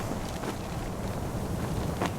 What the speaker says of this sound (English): A fierce gust abruptly whips up the hem of your coat